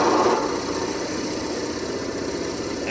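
A drill bit bores steadily through a wooden pen blank at its own pace, giving a continuous close, even whine and hum with no talk.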